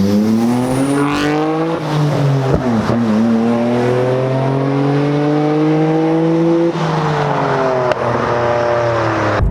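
Stock Nissan Skyline R34 GTR with a 2.6-liter twin-turbo inline-six revving loudly and steadily up close, engine pitch climbing and falling through several sustained rev sweeps with brief dips, no voices.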